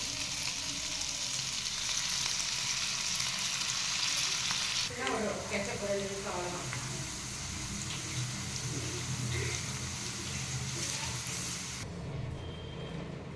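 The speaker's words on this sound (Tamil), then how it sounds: "லைட்டாக நம்ம வடை மாதிரி தட்டி பொரிச்சுக்க போகிறோம், குட்டி குட்டியாக போட்டு" Small vada-like pieces of batter frying in hot oil in a pan, a continuous close hiss and sizzle. A few bursts of brief background talk sit faintly under it.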